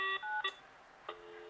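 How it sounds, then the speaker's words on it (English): Keypad tones dialed on a Panasonic KX-TG4011 cordless phone: three short electronic dual-tone beeps in uneven succession, clear and close in a quiet setting, with no speech. "Now let's dial an outside line."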